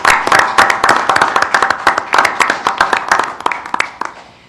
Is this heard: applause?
yes